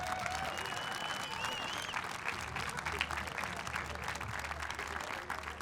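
An audience claps steadily at an outdoor eighth grade moving-on ceremony, moderate applause with scattered cheers and whistles, a low hum beneath, and voices murmuring within the crowd.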